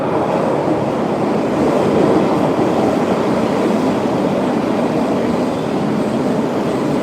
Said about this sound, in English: All right, here it comes. This is one of the thinnest trains too.